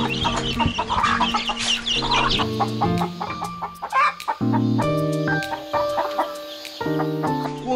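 Chickens and newly hatched baby chicks cluck and peep steadily at a mountain homestead near Hwangak Mountain, the calls close and overlapping throughout with no one talking.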